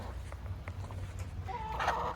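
Chickens and a rooster scratching about in a yard, soft scattered scuffs and small clucks at moderate distance, with a brief brighter burst of bird noise near the end; quiet overall and no talking.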